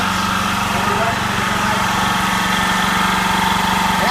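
An engine running on propane, fitted with an oxyhydrogen setup, idles loudly and steadily up close with a constant vibrating drone that never changes pace.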